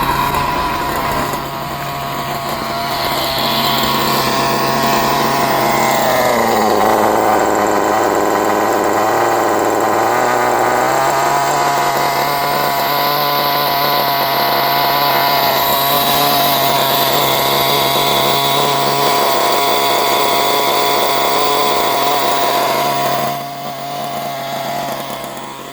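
Kyosho Neo 4.0 nitro engine RC buggy running close by, a loud, raspy high-pitched buzz held steadily with a brief dip in revs midway, continuing without pause for over twenty seconds.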